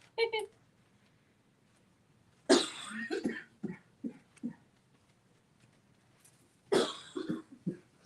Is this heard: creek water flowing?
no